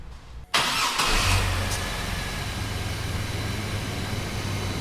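A car engine cranks and catches after a serpentine belt replacement, then settles into a steady, close idle with no talking.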